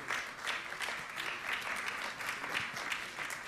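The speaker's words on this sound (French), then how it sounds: "Nous allons applaudir très fort pour l'accueillir." Moderate applause from an international parliamentary conference audience welcoming a speaker, many hands clapping in uneven waves at a somewhat distant, quieter level.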